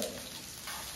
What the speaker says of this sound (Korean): 마늘 볶아, 양파 볶아